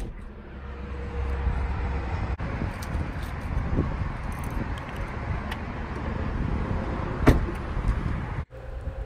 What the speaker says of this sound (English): and the doors open electronically.